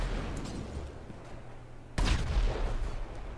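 Rapid gunfire in GTA 5 Online, with bursts of shots and a sharp loud blast partway through, over a constant busy game background.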